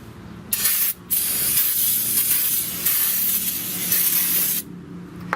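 Brake cleaner sprayed from an aerosol can onto the inside of a Chevy Volt front brake rotor, loud close hissing bursts: a short burst, a brief gap, then long continuous sprays with one pause, ending abruptly.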